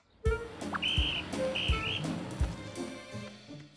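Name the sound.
whistle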